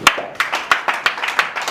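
Rhythmic clapping from a crowd at a Congolese business association gathering, roughly six strong unified claps spaced evenly, close and fairly loud with no talk.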